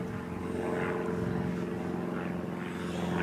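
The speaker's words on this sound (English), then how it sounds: "Yeah, it's a light aircraft." A light propeller aircraft flies low over the Mendip hills near Dolebury Warren and Rowberrow Woods. Its engine drones steadily and continuously throughout, fairly loud and close, with no talk over it.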